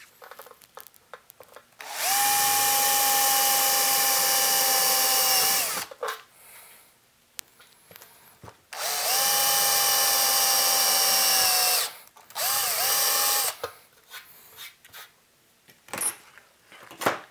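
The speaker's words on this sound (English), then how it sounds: "So next we'll drill a couple of pilot holes" A power drill whirs loudly drilling pilot holes for a tube amplifier chassis in two long bursts of about four seconds each, then a shorter burst, with quiet clicks and handling noises between.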